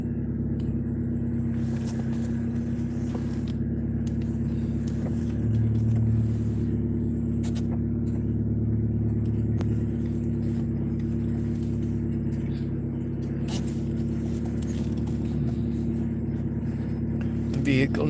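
Steady low car engine rumble inside a moving vehicle, continuous and droning throughout, with faint clicks and road noise on top.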